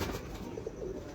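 Pigeons at a breeder's loft give soft, low, repeated coos, faint and close under a steady rumbling background noise.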